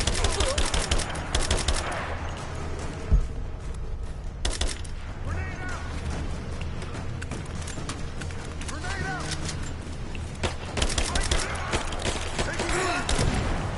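Rise of the Tomb Raider firefight with dense bursts of automatic gunfire and scattered single shots, near and loud, mixed with thuds and shouting voices throughout.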